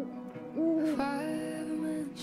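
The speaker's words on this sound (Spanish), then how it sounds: "¿Así se dice el sonido del búho?" An owl hoots in the video game Life is Strange: Double Exposure, a single drawn-out, wavering call lasting about two seconds, clear and fairly close in a quiet scene.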